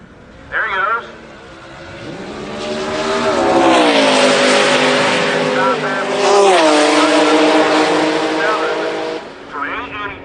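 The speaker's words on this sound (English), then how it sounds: "Mustang strikes the tires." A boosted Mustang drag car launches at a Florida test-and-tune and spins its tires: a loud, rising engine roar with harmonic whine and tire squeal over several seconds, then fading, while a voice talks under it.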